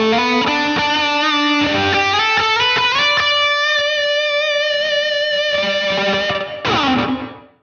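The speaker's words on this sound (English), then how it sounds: "we're going to open up the reverb by right-clicking it" Electric guitar played through a Nux Amp Academy with reverb switched on, ringing chords and lines with a lush, slightly distorted tone and long tails, loud and steady throughout and trailing off at the end.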